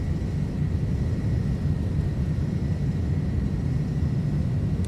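iniBuilds A310 airliner in Microsoft Flight Simulator during takeoff and climb, a steady, dense low engine rumble and roar at constant loudness throughout, with no talk.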